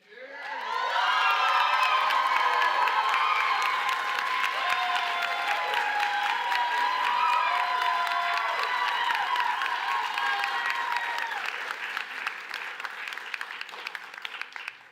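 A large graduation audience at a nursing commencement applauds steadily, with cheers and whoops rising over the clapping before it gradually thins out.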